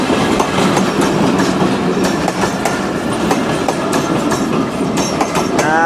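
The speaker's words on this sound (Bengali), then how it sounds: "ট্রেন মনে হয় এটা এখানে ঠেকাবে, ওই সে ভাঙড়ি ট্রেন মনে হয়।" A passing train, its railroad cars rumbling loudly and steadily with clickety-clack wheel beats throughout, close by with no talk.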